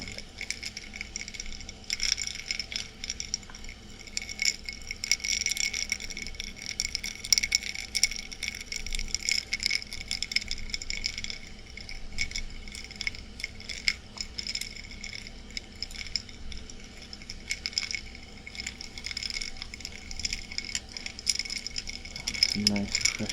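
Ice cubes clinking and rattling in a glass of ice water, a close, continuous stream of bright taps and jingles that carries on throughout without any talk.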